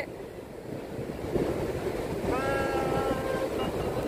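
Sea waves rush in at Colva Beach in Goa, a loud continuous roar of surf building and holding with a faint tonal whine and a voice briefly heard over it.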